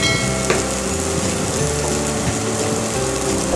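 Cashews and raisins frying in hot oil in a home kitchen pan, a loud, steady crackling sizzle with occasional stirring clinks, close and continuous with no talking.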